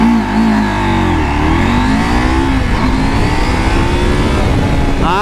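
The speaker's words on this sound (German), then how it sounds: "Start zur Beschleunigung von 0 auf 100 mit der Husqvarna Norden 901." A Husqvarna Norden 901 travel enduro motorcycle accelerates hard from a standstill toward 100 km/h, its engine note climbing loud and close through rising revs and gear changes, with no talk.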